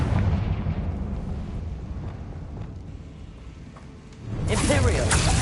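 Confringo explosive spell cast in a video game: a loud rumbling blast that fades over several seconds, then a sharp bright burst of crackling debris near the end.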